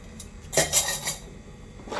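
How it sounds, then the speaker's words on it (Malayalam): Spoon clinking and scraping against a pot while stirring tharikkanji, a Ramadan semolina porridge, with three or four bright metallic knocks close by and quiet gaps between them. "വീണ്ടും ഇളക്കിയെടുക്കുക"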